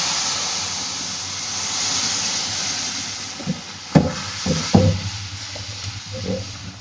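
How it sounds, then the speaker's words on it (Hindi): Hot sugar syrup poured into semolina roasted in ghee for makhandi halwa, a steady loud hiss and sizzle that fades slightly, followed by a few sharp clinks and stirring knocks near the end. "अब इसमें डालेंगे चाशनी जिसे हमने पका के रखा।"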